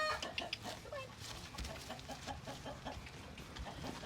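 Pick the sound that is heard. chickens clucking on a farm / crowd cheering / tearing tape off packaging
chickens clucking on a farm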